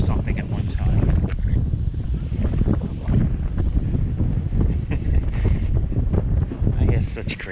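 Strong gusty wind buffets the microphone outdoors in Green Lane Park, Montgomery County, Pennsylvania, a constant loud low rumble that swells and dips throughout, with a voice talking faintly underneath.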